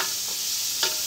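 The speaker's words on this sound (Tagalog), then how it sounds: "Haluin na lahat yan." Onions and pork being stirred in a pan for adobong sitaw, a steady close scraping and sizzling with a couple of brief louder stirring strokes, no talk.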